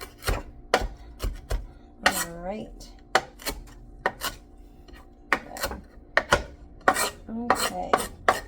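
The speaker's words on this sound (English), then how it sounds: "And then I loosely chop this up. This is basically the cilantro that I'm tossing in there." A knife loosely chops cilantro on a cutting board in a home kitchen, giving sharp, irregular knocks in loose bursts, with a brief spoken remark mixed in.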